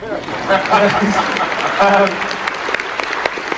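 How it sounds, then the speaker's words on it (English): Convention crowd applause for the Star Trek Discovery cast panel in Las Vegas, a burst of clapping and cheers with voices talking over it before it thins out. "please applaud me, please"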